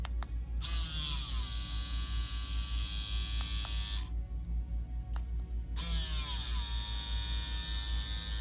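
Ambition Ninja wireless tattoo machine running, a steady close electric buzz that starts up with a soft ramp, cuts out for a moment, then spins up again louder, with no voices.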